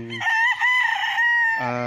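A rooster crows loudly and close on a fenced one-hectare farm lot in Liliw, Laguna, among many kept chickens, a single long strained call with brief clucks before and after.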